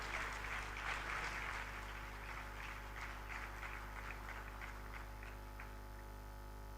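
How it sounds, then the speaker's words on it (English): Faint, distant applause for awardees at the 19th Bharat Asmita National Award ceremony in 2023 patters over a steady electrical hum, thinning out and dying away toward the end. "one more round of applause for all the awardees"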